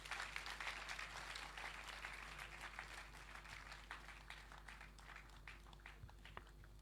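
A closing-ceremony audience at an international colloquium applauds the mayor, with a very faint, distant patter of clapping that slowly thins out over a low steady hum.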